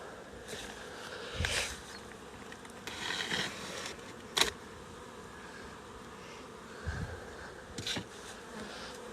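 Honey bees buzz around beehives outdoors, a soft, constant hum with individual bees flying close past and briefly louder, no one speaking.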